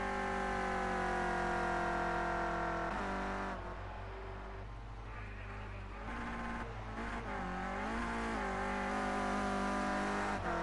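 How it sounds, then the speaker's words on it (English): Renault Clio Cup race car bouncing off its rev limiter while pushed through the final corner onto the home straight, a steady buzzing engine note with rapid stutters and pitch dips, heard at a distance without commentary. "They're hitting the rev limiter there on the Clio as he pushes it round the final corner onto the home straight."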